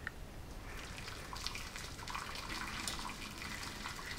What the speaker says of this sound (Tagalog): At dahan-dahan lang natin ibubuhos yung tubig.